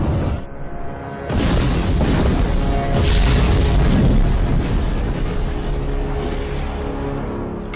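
Cannon fire in a dramatized Mughal versus Sikh battle: a loud, sustained rumbling barrage with dense booms and crashes building after the first second and rolling on without pause to the end.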